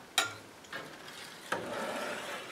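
Cheese curds for herbed gouda are stirred in a pot, giving a few soft scraping strokes spaced apart over a low, steady background hiss.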